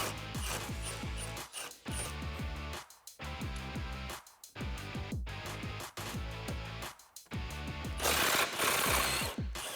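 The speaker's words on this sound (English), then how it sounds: "So we're going to go ahead and back out the 2 13 millimeter bolts now." Two 13 mm subframe bolts on a 2015-2018 Mustang GT are backed out with a rapid pneumatic or electric impact tool, loud close bursts of buzzing, hammering rattle separated by short pauses, with a brighter hiss near the end; no talk.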